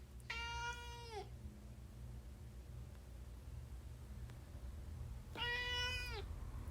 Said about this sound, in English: I thought these were good meows.